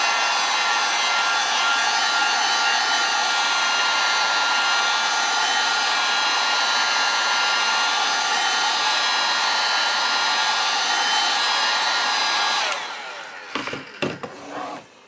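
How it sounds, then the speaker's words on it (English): A heat gun blows on Honda S2000 gauge cluster parts being modified to fit an EK, making a loud, continuous rushing hiss that cuts off near the end, followed by a few close handling knocks. "Now here's where the heat gun goes in play."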